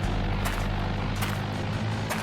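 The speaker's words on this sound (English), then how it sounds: "You can hear like the plane overhead as well, like kind of, there's a plane somewhere." Aircraft propellers droning overhead in a video game, a steady, loud low rumble with a rhythmic throb and occasional brief bursts, with no talk.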